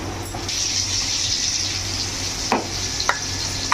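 Ground turmeric and Kashmiri chilli powder being stirred into water, a steady close swishing with a few sharp clinks of the spoon near the end, no voices.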